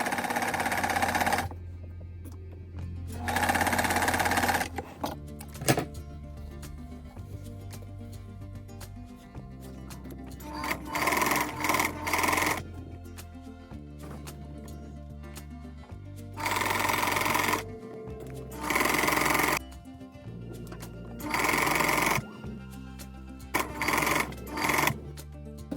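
Sewing machine stitching a pants waist to widen it, running in repeated bursts of steady whirring separated by short pauses, fairly close and alone without talk.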